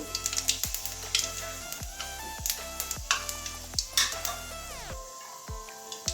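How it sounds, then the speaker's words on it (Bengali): Panch phoron, a five-spice mix, sizzles in hot oil in a pan while a metal spoon repeatedly clinks and stirs, giving a busy, close, steady frying crackle broken by sharp taps. "তেল গরম হয়ে গেছে, ফোড়নে 5 ফোড়ন দিয়ে দিচ্ছি"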